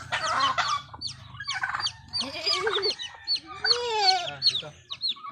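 Domestic chickens cluck and squawk in a backyard in the Philippines, a busy run of close, loud bird calls that rise and fall over several seconds with no break.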